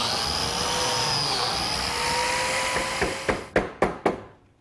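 A plate joiner's motor whines steadily up close while it cuts a biscuit slot in a wood board in a pantry workshop. Several sharp knocks near the end are followed by the whine dropping away.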